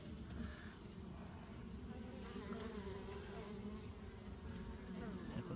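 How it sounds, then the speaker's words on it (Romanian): Honey bees swarm over a hive feeder overfilled with sugar syrup, a dense, steady buzzing hum that fills the whole stretch at close range, with no talking over it. "Acolo, mă, pe acolo nu prea încapă albinele. Se chinuie pe acolo."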